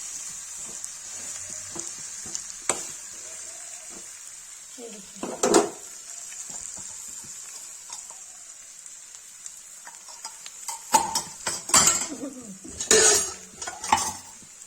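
Stuffed eggplant with spices cooks in a pan, giving a faint constant sizzle, while a utensil scrapes and clinks against the metal in bursts, loudest toward the end.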